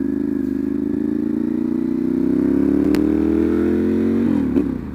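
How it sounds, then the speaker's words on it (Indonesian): Ducati Monster 796 with its L-twin engine and SC Project CR-T exhaust idling and revving close by, a loud, steady throb that rises slowly in pitch, then drops off near the end. "gila suaranya sih ganteng banget sih bener dua silinder L twin nya apalagi pakai CRT"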